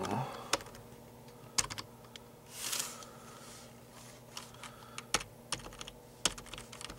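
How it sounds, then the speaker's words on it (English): Typing on the keyboard of a 2004 Dell Dimension 8300 desktop computer, close, with scattered sharp key clicks and a brief cluster of rapid strokes over a quiet background hum. "Let's type in here Google."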